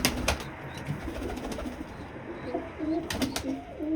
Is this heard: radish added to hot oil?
no